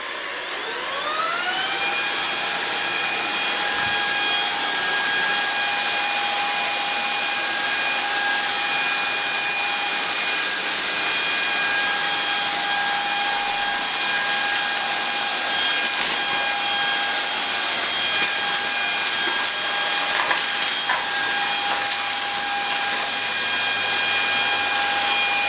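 A Proscenic P9 cordless stick vacuum fitted with its soft brush spins up with a rising whine, then holds a steady high-pitched motor hum with a loud airy rush throughout.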